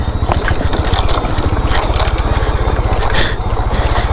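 A motorcycle engine running on a mountain trail in Kashmir, a loud close steady thumping idle with a fast even pulse throughout.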